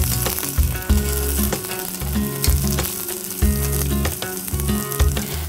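Potatoes crisp in a pan for a roast chicken dinner, giving a dense, bright sizzle that runs throughout beneath rhythmic background music.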